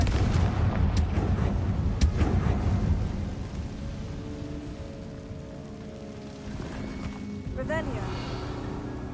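A Confringo blast spell in Hogwarts Legacy erupts as a deep, rumbling explosive boom with a rolling tail, followed by bright crackling magical tones and a fading roar, while a voice speaks in the scene.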